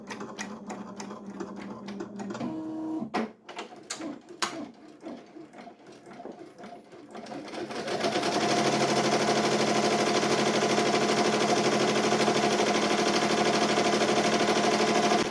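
An embroidery machine stitching a design onto a baby onesie, first with a few scattered mechanical clicks and thumps, then settling after a moment into a steady, dense, continuous whir of rapid needle strokes that carries on unbroken.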